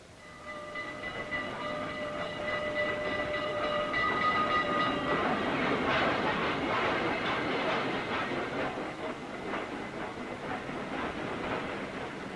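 A train at a railway station, heard in a 1937 film: steady rumbling rail noise with a sustained whistle tone early on, then clattering wheels and carriage noise continuing at a fairly loud, even level.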